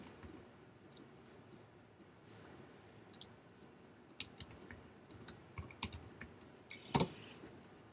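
Light typing on a computer keyboard, quiet scattered key clicks that grow busier toward the end with one sharper tap, close and faint with no talking.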